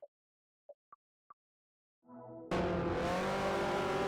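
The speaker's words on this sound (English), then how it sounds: "What does the tire sound like?" A few short soft blips, then an engine hum rising into a loud, sustained tire squeal from a race car in Forza Motorsport 4, continuing steadily to the end with no talking.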